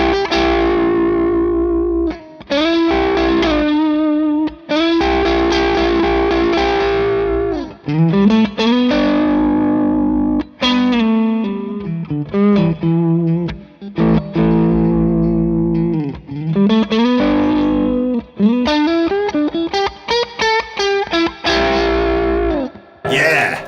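A heavily distorted electric guitar plays sustained, wavering notes and bends, alternating between two pitches in a loud, continuous passage.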